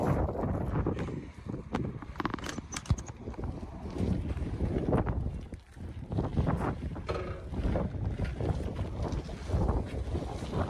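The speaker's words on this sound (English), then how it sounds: "It's really windy out, isn't it?" Strong gusty wind buffets the microphone in a continuous loud roar, with rushing and thumping bursts throughout.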